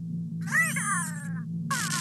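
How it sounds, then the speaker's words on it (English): A crow-like bird caws in a video game, with two or three harsh, drawn-out calls over a steady low game hum, fairly faint and with no voices. "Take care of your bird."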